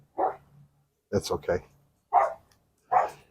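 Dogs bark at a neighbor walking past across the street, several short separate bursts spread across the moment, with a person speaking briefly between them near a small two-burner Monument G22 grill outdoors.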